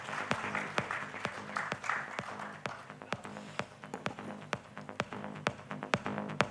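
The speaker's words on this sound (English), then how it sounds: "please, a huge round of applause for our esteemed speakers in the house" An audience at a fintech summit applauds the speakers, a steady run of individual hand claps from a modest crowd, fairly close and continuous throughout.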